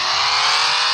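Car engine with a cylinder 2 misfire fault revving as the throttle is opened, a loud steady high whine held for about a second, no talk.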